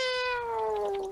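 A human voice imitates a cat's meow: one close, drawn-out call that slides gradually downward in pitch and trails off after about a second.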